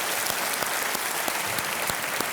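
Studio audience of a televised quiz show applauds steadily, a dense, even wash of clapping that stays loud and unbroken throughout with no talk over it.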